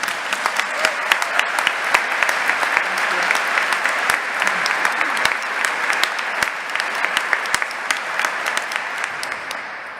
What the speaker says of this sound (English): give her a round of encouraging applause as she comes to the podium